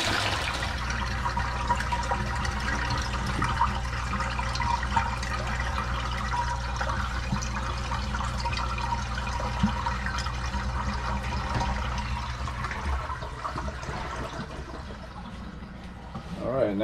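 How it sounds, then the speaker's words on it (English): Water pours steadily into a plastic barrel of a three-barrel koi pond filter, a continuous full rushing and gurgling fill that stays loud and close for the whole stretch and eases slightly near the end; a voice talks over it. "Now the water's filling up to barrel number 2,"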